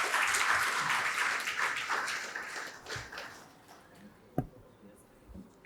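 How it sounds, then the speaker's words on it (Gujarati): Audience applause at an award ceremony, a dense wash of clapping that is loud at first and gradually thins out. A few scattered claps and a sharp tap come through near the end. "ખૂબ તાળીઓથી આપણે વધાવી"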